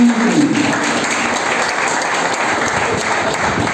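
Audience applause at a marketing event, loud sustained clapping from a crowd close by, steady throughout with no talking.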